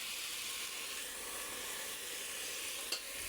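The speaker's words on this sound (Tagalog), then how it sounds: "Lagyan natin ng tubig." A sizzling pan while cooking sinigang with corn, a steady broad hiss and frying crackle close by, with a brief sharp spike near the end as water hits the pan.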